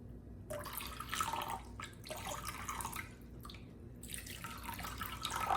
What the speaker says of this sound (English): the stone needs to be quite wet, permeated with water